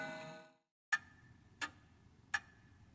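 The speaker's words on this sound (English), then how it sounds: "It's an antique grandfather clock." Antique grandfather clock in a horror video game: a fading resonant chime tone dies away, then three crisp, evenly spaced ticks ring out close and clear in a quiet room.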